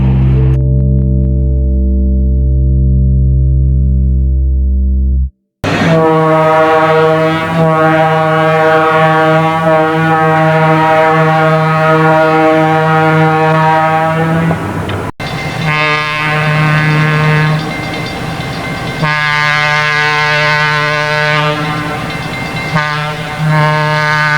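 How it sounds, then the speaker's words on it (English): Loud, sustained multi-tone WEPCO E2 air horns on a Milwaukee Road EP-2 electric locomotive blare in long blasts with a brief break, sounding close and powerful. "The Milwaukee Road EP-2s are also equipped with WEPCO E2 air horns."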